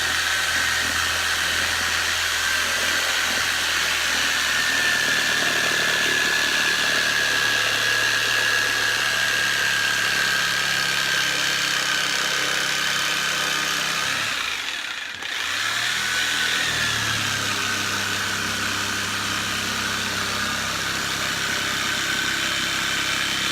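A handheld skill saw cuts around a scrap tire, its motor whining loudly and steadily for over twenty seconds, with one brief dip partway through before it returns to full speed.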